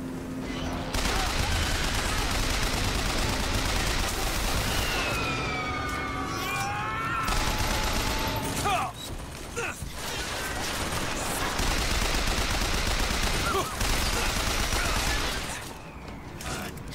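Sustained gunfire from the video game Bioshock Infinite: a near-continuous loud barrage of shots runs across the clip, with mechanical whines and brief lulls between volleys.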